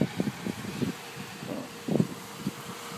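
An aqua green pickup truck with step slides and a Z71 badge drives past outside in wind, a soft engine and tyre rush rising and fading amid gusty microphone noise.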